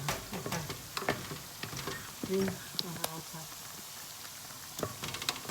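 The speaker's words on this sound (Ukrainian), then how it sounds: "Наш рис кипить, ми зробили менший вогонь під ним і помішаємо його." Close, intermittent scraping and clinking of a spoon stirring boiling rice in a pot over lowered heat, with a soft bubbling sizzle underneath and a brief murmured voice.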